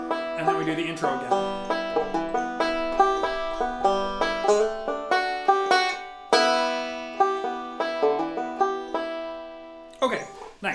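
A banjo plays the intro of a song, a steady flow of bright plucked notes and rolling picking patterns, close and clear, with no voice over the playing.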